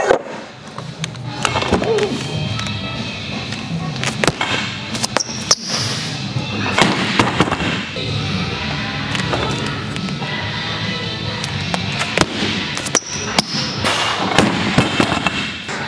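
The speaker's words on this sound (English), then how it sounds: "So today I'm doing axle bar jerks. I'm doing them from the blocks." Axle bar jerks from blocks in a gym, a barbell loaded with large Rogue wagon wheels, giving repeated loud thumps and clanks of the bar landing against a steady background hum.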